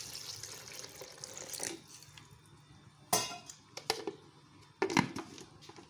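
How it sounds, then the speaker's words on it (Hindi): Water poured from a glass over spices such as dry mango and ginger powder in a grinder jar, for golgappa pani: a splashing, gurgling pour up close, followed by a few sharp knocks and clinks. "एक गिलास में पानी डाल के इसको ग्राइंड कर लूँगी।"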